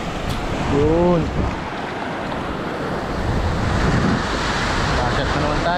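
Sea waves wash onto a beach with a broad rushing roar and wind buffeting the microphone, and a voice briefly sounds early on.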